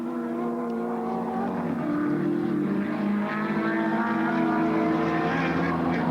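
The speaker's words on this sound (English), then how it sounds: "the first of the Brock cars process for the Touring Car Championship through the Coca-Cola sweeper" Touring cars from the 1987 Australian Touring Car Championship race through a sweeper at Symmons Plains circuit in Tasmania, their engines roaring loudly and steadily, with the pitch rising as the cars pass close by.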